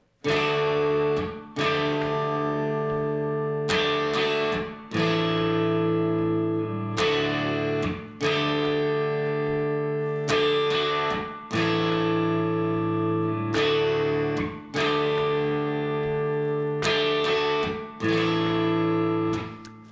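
An electric guitar strums a rhythmic chord pattern, bright chords struck in regular repeating bursts with short pauses between phrases, played alone and up close.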